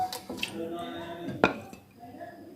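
Fried chicken lifted out of hot oil in a karahi, giving clinks and scrapes of a utensil against metal, one sharp clank in the middle, faint sizzle beneath, close by with a voice partly audible.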